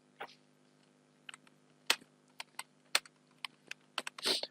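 Typing on a computer keyboard while writing HTML for a web design lesson: irregular crisp key clicks in small bursts, close and fairly quiet, with a slightly busier clatter at the end.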